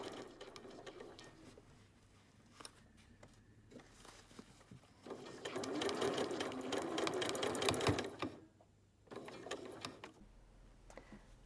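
A sewing machine stitches 1 cm from the edge of a jacket cuff, running in bursts of rapid rattling stitching separated by quiet pauses, with the loudest stretch in the middle.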